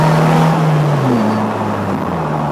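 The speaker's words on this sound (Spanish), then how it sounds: "el coche sube muy bien de vueltas" A Polaris Slingshot SL engine revs, its pitch sweeping down and then climbing again in a smooth, close whine over a brief moment, with no talking.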